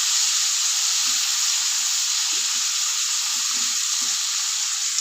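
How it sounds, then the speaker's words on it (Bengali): Food fries with salt and turmeric powder for a rui fish and bean curry, a loud, dense, steady sizzling hiss close by with faint low stirring knocks underneath. "দিয়ে দেবো স্বাদ মতো লবণ, দিয়ে দেবো হলুদ গুঁড়ো, ভালো করে ভেজে নেব"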